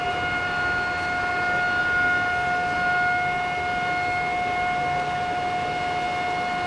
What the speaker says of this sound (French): La sirène du groupement des sapeurs-pompiers retentit.